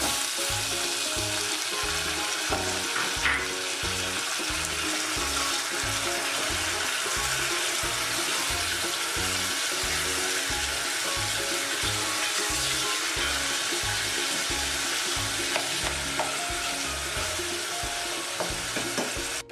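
Onion, green chilli and tomato fry and get stirred in a pan for a soya pulao, giving a steady close sizzle with a regular thumping, scraping stir beat throughout, no voices.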